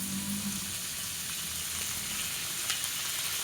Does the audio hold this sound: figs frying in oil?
yes